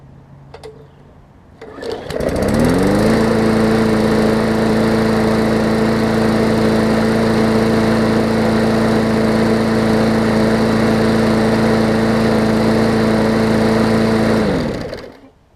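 Bolens push mower with a Briggs OHV engine fitted with the wrong spark plug and no jet plug, starting up and running at a steady loud drone close by for over ten seconds before cutting off.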